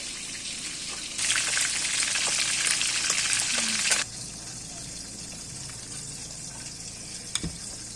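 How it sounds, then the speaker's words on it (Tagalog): Chichi frying in a pan gives a steady loud sizzle for about three seconds, then drops to a softer, ongoing crackle with a faint clink near the end. "Magpiprito ng chichi."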